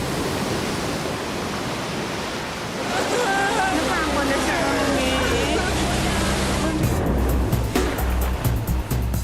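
Big ocean waves rolling in a steady broadband surf roar that swells louder partway through, with a low rumble underneath and no voices.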